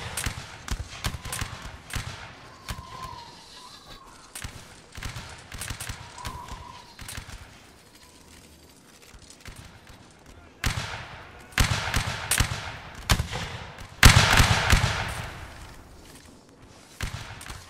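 Musket fire in a Napoleonic Wars line battle video game crackles as many overlapping sharp shots, first as a ragged volley, then after a lull as heavier, louder bursts, with distant voices between them.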